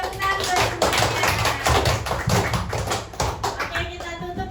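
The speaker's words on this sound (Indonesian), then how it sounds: "tepuk tangan buat semuanya" Children in a classroom break into steady applause for everyone, a dense run of close hand claps over several seconds, with a voice speaking briefly over the clapping before it thins out.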